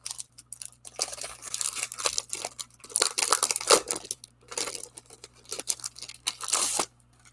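Paper rustles, crinkles and tears as it is handled and unwrapped, in close, loud bursts of crackling with short pauses, no talking.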